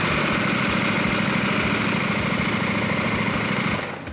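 A 2024 KTM 890 Rally motorcycle engine idles steadily and loud, with a constant low rumble and a tight, even beat that holds throughout before dropping away abruptly at the very end.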